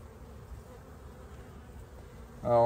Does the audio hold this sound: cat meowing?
no